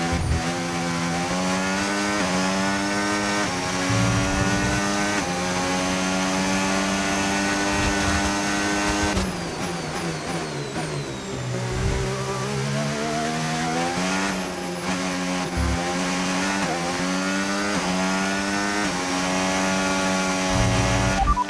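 Formula 1 cars in the racing game F1 25 roar continuously, with the engine pitch climbing and dropping through gear shifts and corners as other cars pass close by.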